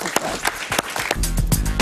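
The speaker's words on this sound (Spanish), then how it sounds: "Un aplauso para ella, por favor." A studio audience applauds a journalist guest on a Spanish-language TV talk show: irregular sharp claps at first, then a denser, fuller wash of clapping that holds steady to the end.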